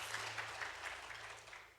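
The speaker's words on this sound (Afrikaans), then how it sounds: "kan ons wel 'n lekker hande klap gee" Quiet, steady applause for three ladies runs through the whole stretch, a faint, dense patter of many hands with no talking over it, a low hum underneath.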